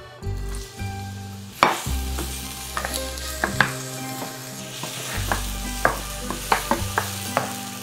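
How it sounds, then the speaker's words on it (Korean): Sliced onions stir-fry in a spoonful of hot oil in a heated pan for kimchi fried rice, with a steady close sizzle broken by repeated scraping stirs and utensil taps against the pan. "양파를 넣어서 양파가 투명해질 때까지 볶아주도록 하겠습니다"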